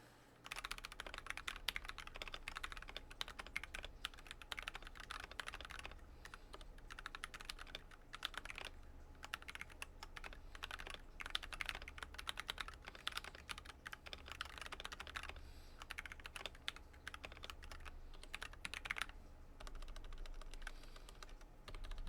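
Typing on a stock GMMK2 96% mechanical keyboard, with dense, rapid keystrokes clattering steadily and close up for over twenty seconds, quiet and alone with no voice.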